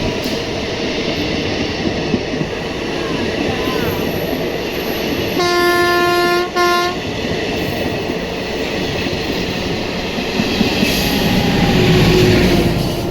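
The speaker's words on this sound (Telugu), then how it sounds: "Kurnool city Nandyal demo passenger అయితే రంగాపురం స్టేషన్ నుంచి డిపార్ట్స్ అవుతుంది" A Kurnool City–Nandyal DEMU passenger train departs Rangapuram station under a steady rail rumble. Midway through, a loud horn blast lasts about a second and a half, and the train noise swells again toward the end.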